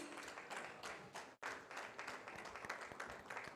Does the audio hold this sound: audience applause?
yes